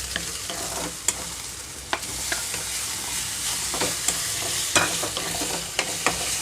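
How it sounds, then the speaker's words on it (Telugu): Tomato tossed into softened okra frying in a pan for okra chutney, a steady broadband sizzle with sharp scrapes and clicks of a spatum stirring at irregular intervals, close and fairly loud, no voices. "ఇప్పుడు నేను టమాటా వేస్తున్నాను ఇందులోనే."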